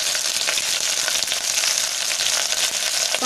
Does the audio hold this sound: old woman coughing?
no